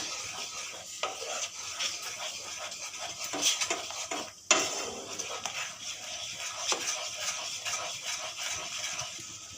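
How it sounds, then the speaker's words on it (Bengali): Sugar and pineapple paste being stirred in a pan until the sugar melts, with steady scraping of a spoon against metal and a soft sizzle running throughout, loud and close, with a sharper clack near the middle. "চিনিটা গলে যাওয়া পর্যন্ত কিছুক্ষণ সময় নিয়ে নাড়তে থাকবো।"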